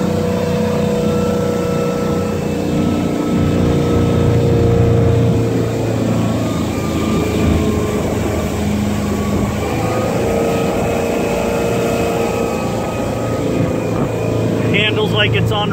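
A 2010 Cobalt 210 motorboat runs at high speed through a turn on open water, its engine a loud, sustained drone mixed with steady hull and water rush.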